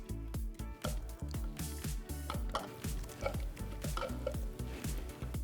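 A spatula scrapes chimichurri out into a mixing bowl, giving a steady run of close, repeated scraping and stirring strokes with a wet, squishy texture.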